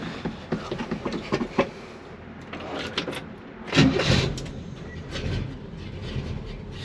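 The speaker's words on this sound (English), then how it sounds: "Starts right up." A 1966 Chevy Nova's engine cranks with a rapid ticking whir, then catches with a louder surge and settles into a steady idle, heard close up.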